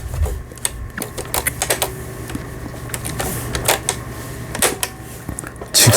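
A Pfaff 6120 sewing machine stitching a zigzag seam, giving a dense, rapid mechanical clatter that runs continuously, close by, with a steady low motor hum beneath it.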